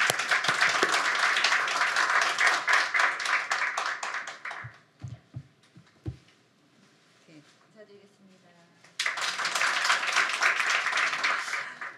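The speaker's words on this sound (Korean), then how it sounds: "박수로 모시겠습니다" A room full of people bursts into sustained applause welcoming a speaker to the stage at an education campaign event in Korea, the clapping loud and dense, breaking off for a few seconds of quiet rustling before a second strong round of clapping.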